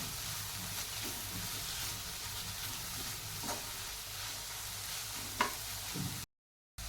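Steady, loud sizzling of bottle gourd masala frying in a pan with coriander and salt, with occasional scraping of stirring, continuous throughout before a brief cut to silence.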